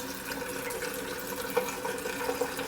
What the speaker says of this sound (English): Just going to get the water running just a little bit for now.